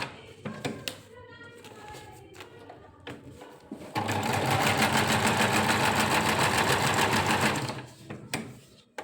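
Sewing machine that does straight stitching, picot-fall and overlock work, first a few short bursts and clicks, then a loud, steady rapid stitching run of about four seconds before it slows and stops.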